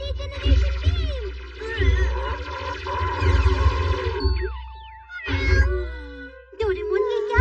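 A cartoon cat in a Doraemon episode meows in a series of rising and falling cries, loud and close, layered over busy background music and effects with brief pauses between bursts.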